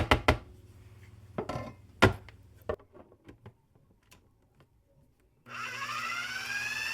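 A food processor blending basil pesto starts with a sudden steady whir near the end, preceded by scattered knocks and clicks of handling.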